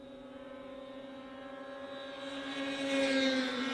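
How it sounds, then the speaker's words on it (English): A 1991 Polaris racing snowmobile circles a big half-mile oval in Beausejour during a power toboggan championship, its steady engine drone rising gradually as it draws closer and louder toward the end. "That is a 1991 Polaris going around the big half-mile oval here in Beausejour."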